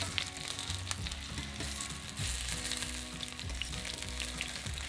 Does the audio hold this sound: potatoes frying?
yes